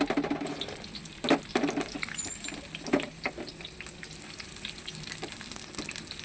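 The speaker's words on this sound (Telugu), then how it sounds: "ఫస్ట్ ఆయిల్ పోస్తున్నాను తర్వాత ఇవి తెచ్చి ఆనియన్స్ వేస్తున్నాను ఉల్లిపాయలు వేస్తున్నాను" Onions frying in hot oil for beef keema, a close steady sizzle punctuated by several sharp stirring clatters of a utensil in the pan.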